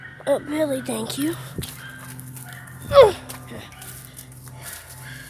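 A dog outdoors gives a few short, high yips and whiny barks near the start and again midway. A person speaks briefly between the calls.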